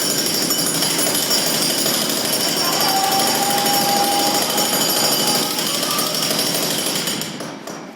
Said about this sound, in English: this guy let me use his jackhammer